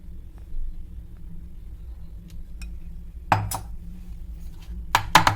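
A greased 8-inch cake mold filled with strawberry cake batter is tapped on a surface a few times, producing sharp metallic knocks, a single one and then a quick cluster near the end, over quiet kitchen background.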